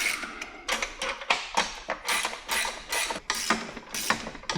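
Wrench work tightening the nuts and bolts of a heavy-duty two-place off-road bike rack rated for 200 lb, with nylon locking nuts, sounding as a close, uneven run of metallic ratcheting clicks and taps in short bursts with no talking.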